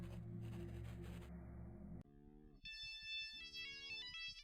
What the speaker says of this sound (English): Oh, I remember those phone tones.